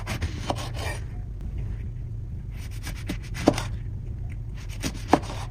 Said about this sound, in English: While that's resting, cut some lemon wedges.